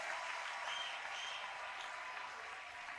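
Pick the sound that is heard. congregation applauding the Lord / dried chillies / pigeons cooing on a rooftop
congregation applauding the Lord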